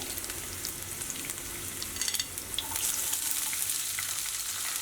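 Curry leaves dropped into hot oil over a medium gas flame, crackling and sizzling steadily with sharp popping bursts, close and alone without any talk.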